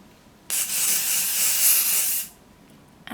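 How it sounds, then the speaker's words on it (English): Hairspray sprayed onto styled hair for a vintage pin-up look, one continuous close aerosol hiss lasting nearly two seconds, starting and stopping abruptly against a quiet room. "then use plenty of hairspray, depending on how long you want to wear it like this"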